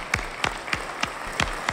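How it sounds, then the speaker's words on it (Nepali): At the stage premiere of a dance competition show, a few scattered hand claps sound in a sparse, evenly spaced run of about six, fairly quiet and distinct. "एकचोटि जोरदार ताली।"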